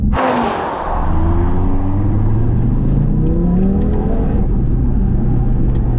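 A tuned, turbocharged Audi TT RS accelerating hard, its engine note climbing steadily through a gear with deep rising harmonics after a brief initial shift, loud and close throughout, with no talk.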